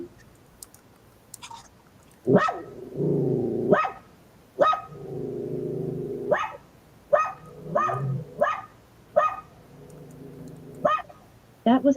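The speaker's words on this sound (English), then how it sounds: "Alexa, bark like a dog." A smart speaker plays a dog barking: a run of sharp, close barks in an uneven rhythm with short pauses between them, fairly loud against a quiet room.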